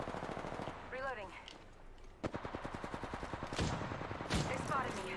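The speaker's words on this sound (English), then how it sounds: "Opening fire." Rapid automatic gunfire in the shooter game Apex Legends rattles in quick bursts, a sharp crack leading into a steady stream of evenly spaced shots, with game effects and faint voice callouts mixed in.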